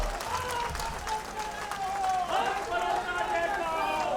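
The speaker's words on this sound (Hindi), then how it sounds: "जब गड़बड़ नहीं है तो ताली बजा दीजिए।" A large crowd at a Delhi election rally for the Lok Sabha vote applauds in a continuous wash, heard under an amplified speaking voice.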